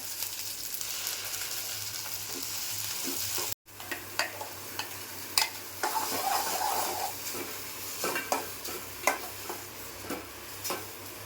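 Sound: okra frying in tempering with curry leaves

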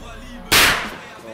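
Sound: Weco Super Böller 2 firecracker exploding

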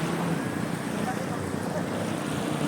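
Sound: small sea waves on a beach

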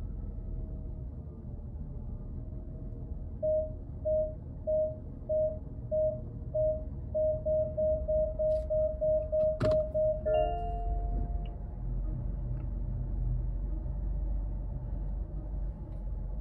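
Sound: Mazda CX-90 proximity warning beep

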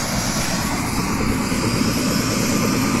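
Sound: helicopter flying in to land at a stadium

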